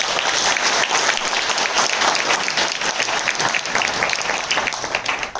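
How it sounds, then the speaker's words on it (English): Audience at a book launch for author Navtej Sarna applauds him, a loud, full, sustained burst of many hands clapping evenly throughout. "A huge round of applause,"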